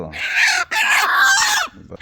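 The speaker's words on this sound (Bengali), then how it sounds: "হ্যাঁ দেশি মোরগ তো" A native rooster at a rural riverside char market clucks and crows in two loud, close bursts, separated by a brief pause and followed by quieter rustling.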